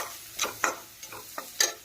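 Maggi noodles with egg and onion being stir-fried in a pan: a quiet bed of sizzle broken by five or six sharp scraping strokes of a spatula at uneven intervals, no voices.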